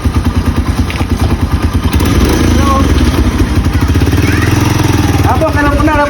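A tricycle motorcycle engine runs close by with a steady, rapid chugging pulse that grows slightly louder after a couple of seconds, while people talk over it.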